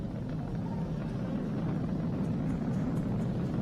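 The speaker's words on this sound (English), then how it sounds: "Vehicle is supersonic. We've exceeded Mach 1 on the Falcon 9." SpaceX Falcon 9 rocket in flight past Mach 1, heard as a steady distant low rumbling roar with no other sounds.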